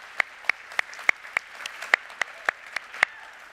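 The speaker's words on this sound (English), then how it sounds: "We should clap for that." Sparse, sharp claps ring out at a panel event on rebuilding the IRS's digital services, about a dozen distinct crisp hand claps in an even, steady rhythm rather than a dense crowd roar.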